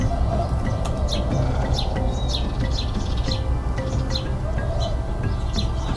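Doves and sparrows at a backyard feeder chirp and tweet in scattered short calls over a steady, loud outdoor rumble, the birds fairly faint against the constant background noise.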